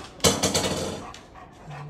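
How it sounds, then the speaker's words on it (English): A big brown dog barks a few times at breakfast, several quick loud barks close by at the start, then quieter sounds trail off. "Hi, my big brown dog."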